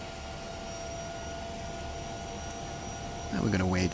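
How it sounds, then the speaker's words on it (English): A Bell 206 helicopter turbine engine starting up in the CowanSim flight simulator, a steady whining hum that ends with a rising, louder spool-up tone. "Gonna wait for the rotors to spool up."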